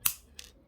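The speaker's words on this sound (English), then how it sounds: "And then I'm going to cut a little bit off that wire." A wire cutter snips jewelry wire for wire wrap earrings: one crisp close click followed by a fainter second click.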